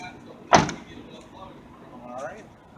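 A vehicle door latch checked during an annual inspection: one sharp clunk of the door close by, then low background rumble and a faint mechanical creak.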